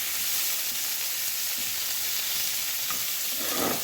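Vegetables, including peas, beans and tomatoes, fry briefly in a kadai, producing a steady, moderately loud sizzle with faint stirring sounds and a rougher crackle near the end.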